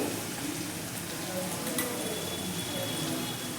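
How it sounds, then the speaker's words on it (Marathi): Ground spices for an eggplant curry fry in a pan with a soft, even sizzle that stays low and steady. Faint stirring and scraping sounds sit close over it. "हे सर्व आपण मसाले व्यवस्थित असे फ्राय करून घेऊया"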